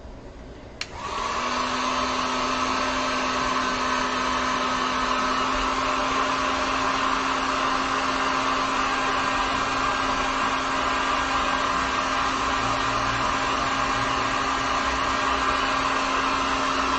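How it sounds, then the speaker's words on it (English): A heat gun drying acrylic paint on a painted sign switches on with a click and then blows a loud, steady whirring roar that holds unbroken for the rest of the stretch, close by and alone. "So I'm going to grab the heat gun."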